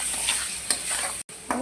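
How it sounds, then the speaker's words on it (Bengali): A spice paste of ginger-garlic paste and ground spices is stir-fried, giving a loud, continuous sizzle close by with regular scraping stir strokes and one brief cut in the sound. "এখন মশলাটা ভালো করে কষাই নিব।"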